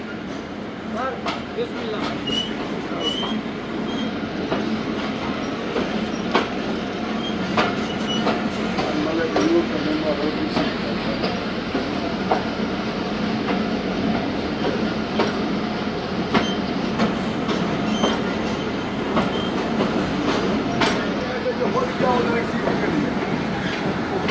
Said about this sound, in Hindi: आठ बजकर 45 मिनट पर दोस्तों ट्रेन का अराइवल हुआ है कोडादू जंक्शन